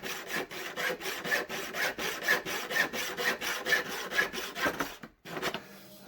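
A hand saw cuts a piece to length, about a dozen even back-and-forth rasping strokes in a steady rhythm, close and clear, ending in a brief pause and a softer rub.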